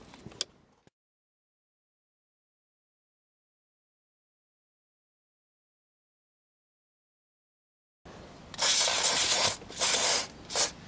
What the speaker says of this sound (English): if you spray WD-40 specialist silicone spray onto it